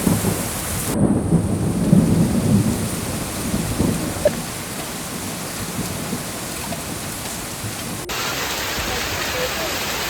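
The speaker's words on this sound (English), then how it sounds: "Oh my god, is that Hailstorm?" A steady roar of heavy hail pounding down in Bangalore, loud and continuous throughout, with a low rumble in the first few seconds.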